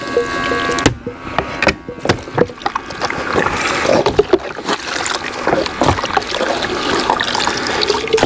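City water splashes and trickles steadily, with dishes clinking and sloshing in a basin close by.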